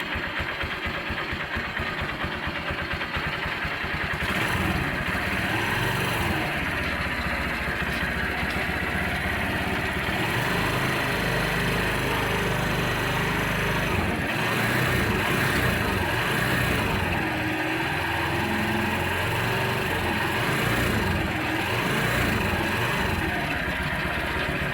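A 2003 Kawasaki Barako motorcycle engine runs steadily at idle, a continuous loud rumble with slight knocking throughout, close up and with no talking.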